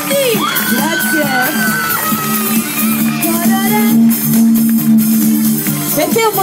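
A live crowd cheers, whoops and shouts with applause at an Italian music show, loud and close, while someone talks over the noise through a sustained musical tone.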